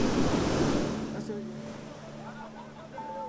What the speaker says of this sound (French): Ici, les vagues sont de plus en plus agitées.